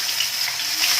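Long strips of carrot hit hot oil in a pan for a soya bean chowmein, giving a loud, steady close-up sizzle with no pause.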